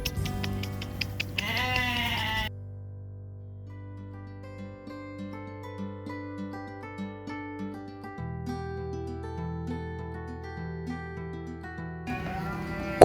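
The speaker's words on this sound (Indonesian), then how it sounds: "Tuh lihat mendekat kan kambingnya" Goats at a farm bleating in loud bursts at the start and end, framed around a stretch of music, with no talk over the animal calls.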